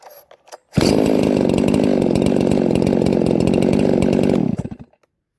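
A Stihl MS660 chainsaw with its gasket deleted and a 56mm pop-up piston starts and runs at a close, loud, rough buzzing idle for about four seconds, then cuts off, after a few quiet clicks.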